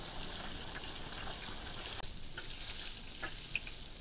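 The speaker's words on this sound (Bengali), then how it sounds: "ইলিশ মাছ ভাজা হয়ে গেছে" Hilsa fish frying in hot oil, a steady close crackling sizzle with small pops, continuous and alone throughout, with a brief clunk near the middle.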